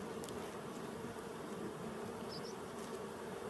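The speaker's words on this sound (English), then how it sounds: "Before I get the bees too stirred up" Honey bees at an opened beehive drone in a steady, dense buzz that stays constant and fairly close throughout, with no talking.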